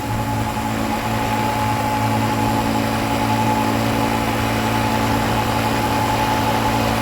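A Suzuki LTZ 250 ATV engine cruises steadily in fifth gear through the woods at night, giving a continuous, loud, even drone with steady tonal hum and no talking.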